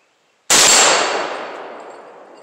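A rifle shot strikes an 8-inch steel gong at an outdoor range, giving one sharp loud bang followed by a bright metallic ring that decays over about two seconds.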